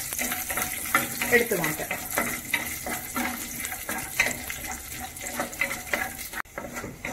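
Cashews and raisins roast in hot ghee for homemade carrot halwa, crackling and sizzling as they are stirred with a utensil, with a short spoken phrase over the cooking.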